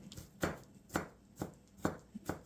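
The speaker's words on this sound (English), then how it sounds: "now you chop all your vegetables" A knife chops through celery on a cutting board in five evenly spaced, crisp strokes, each a distinct close thud.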